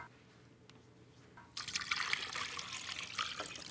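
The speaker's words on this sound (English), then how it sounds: "So you put your chicken in and water to cover." Water begins pouring into a stockpot over chicken partway through, a steady splashing rush that stays loud and continuous after a quiet start.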